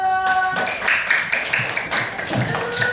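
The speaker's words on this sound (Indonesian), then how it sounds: "tepuk tangan dulu" A classroom of students claps hands together in a short burst of quick, uneven claps, close and fairly loud, following a brief tone at the start.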